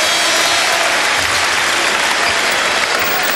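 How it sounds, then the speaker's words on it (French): A crowd claps steadily, a dense, loud wash of applause that continues without pause throughout, at a France versus Italy basketball match in Strasbourg. "Il faut l'applaudir."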